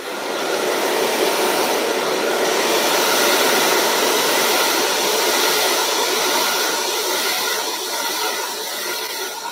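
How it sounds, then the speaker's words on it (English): A hairdryer roars continuously as it blow-dries wet hair in a salon, a loud close steady whoosh of air without pause or talk. "very quickly with a hairdryer."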